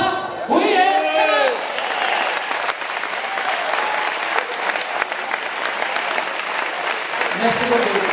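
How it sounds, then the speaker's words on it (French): Audience applause at a red-themed ball in honour of Niko, with dense steady clapping and scattered cheers lasting several seconds, a brief voice rising over it at the start and again near the end. "Est-ce qu'elle mérite un gros applaudissement?"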